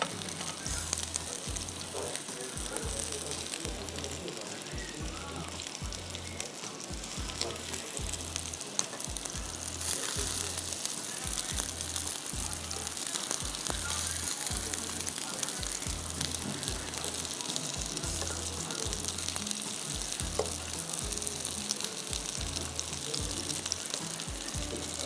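Reshmi kebabs sizzle steadily in a pan for a karahi dish, giving a constant close frying hiss with a faint rhythmic low thumping underneath and no pauses.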